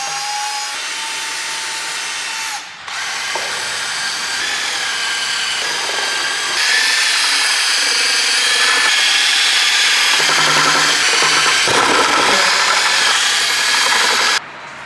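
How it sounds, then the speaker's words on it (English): A drill mixing paint in a bucket whirs loudly and steadily with scraping and churning as the paddle works the sides and bottom, with brief pauses between runs. "Before I actually start spraying and everything, I'm going to mix up my paint"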